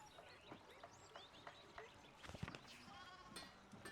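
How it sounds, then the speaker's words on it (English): Sheep bleat in the medieval adventure game Pentiment, several short calls scattered through the clip over a busy mix of game ambience, moderately loud and close. "Oh, more sheep blocking the way that way."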